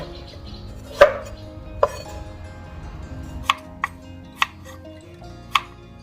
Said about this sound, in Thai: หั่นมันฝรั่งชิ้นพอประมาณนะคะ ก็ประมาณขนาด 1 นิ้วค่ะ